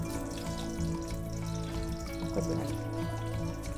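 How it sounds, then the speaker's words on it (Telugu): Spices sizzle steadily in hot oil in a pan for an Andhra mango peel sambar, a soft continuous crackle with no voice over it. "ఇవి మంచిగా వేగనిద్దాము ఇవి మంచిగా వేగాలి"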